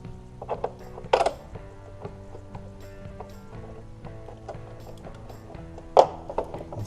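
A ratchet clicks in quick bursts while tightening timing cover bolts on a Toyota/Lexus V6 engine, with close, rhythmic pawl clicking broken by a couple of louder metallic clanks.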